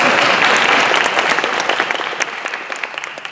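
Audience applause at a graduation ceremony, a dense wash of many hands clapping that starts loud and gradually thins out, with individual claps standing out toward the end.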